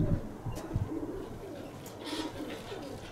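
Pigeons coo softly in a loft in Kozani, Greece, low throaty calls repeating under a steady background hiss, close but faint.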